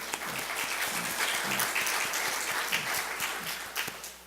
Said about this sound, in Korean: 우리 한번 박수를 한번 격려하면 좋을 것 같아요